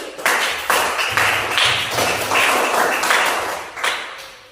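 Audience applause after a group presentation in a classroom, a burst of many hands clapping at close range that holds steady for several seconds before tapering slightly.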